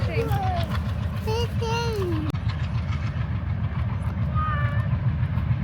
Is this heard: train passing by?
yes